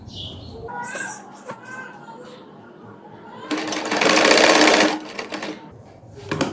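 A sewing machine stitches fabric for a neck design, a loud close buzzing run of about a second and a half, with brief quieter stitching and handling before it and faint background sounds.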